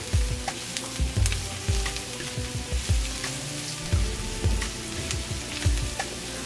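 Onions and minced garlic fry in a pan for a vegan squash and potato curry, a steady close sizzle with occasional soft stirring scrapes and knocks.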